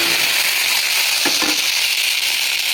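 Onion frying in oil with mustard seeds, ginger and turmeric, a steady loud bright sizzle with a faint stir scrape midway, close and constant, no voices.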